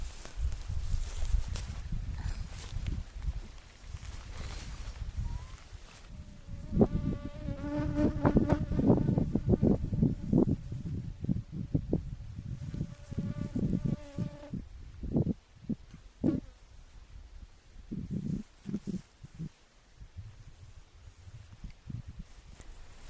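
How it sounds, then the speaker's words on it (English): Insects in mountain grassland in Romania's Apuseni Mountains give a close, wavering buzz that swells in the middle, with rustling and footsteps through the grass around it. "this grassland is heaving with little crickets"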